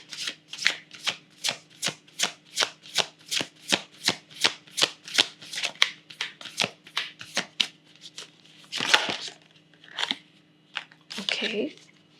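A Moonology oracle card deck shuffled by hand, with a steady run of crisp riffling bursts at a brisk, even rhythm, close and clear, followed by a few looser shuffles and card flicks.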